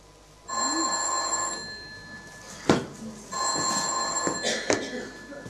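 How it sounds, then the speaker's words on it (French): An old-style telephone bell rings in two long bursts with a pause between them, heard indoors during a stage play. Other sharp noises and bits of voices come between and over the rings. "Veuillez répondre au téléphone, s'il vous plaît."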